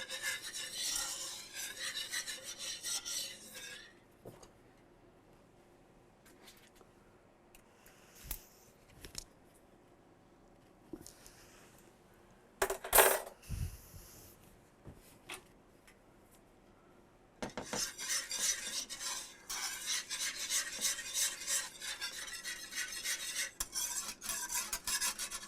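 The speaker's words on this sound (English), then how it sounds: "We just keep whisking it around" Whisk scraping and stirring sawmill gravy in a pan, a steady raspy rubbing in two long bursts with quieter clinks and pauses between them, close and fairly loud.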